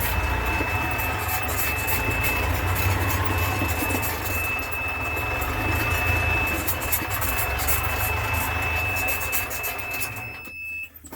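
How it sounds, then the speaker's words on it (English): Golf cart reversing into a garage, a steady low motor hum with a constant high-pitched reverse beep running throughout, ending abruptly. "put it in reverse, go back"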